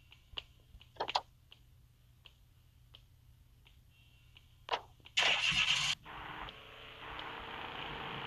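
A car engine in the Madout2 video game cranks with a short loud burst and then settles into a steady rumbling idle, after a series of faint, sparse clicks.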